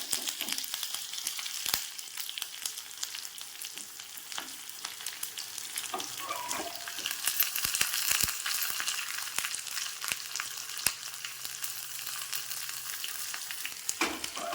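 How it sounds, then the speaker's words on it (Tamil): Fenugreek, cumin, chopped onion and curry leaves crackle and sizzle in hot oil for a bitter gourd sambar, a steady bright frying hiss with occasional sharp pops and a few stirring scrapes, moderately loud and close with no talking. "அப்படியே போட்டு தாளிச்சிடலாம்."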